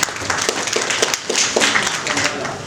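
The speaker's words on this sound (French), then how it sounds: "Veuillez vous applaudir, s'il vous plaît." Audience clapping at the official launch ceremony of an organisation's activities in Mali, a dense, loud burst of applause running for a few seconds with some crowd noise mixed in.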